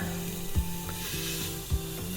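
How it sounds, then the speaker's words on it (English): A T-bone steak sizzles on a Ninja Foodi Grill, making a steady crackling hiss. Two soft thumps break it at regular intervals, and nobody speaks. "Okay, now listen to this sizzle."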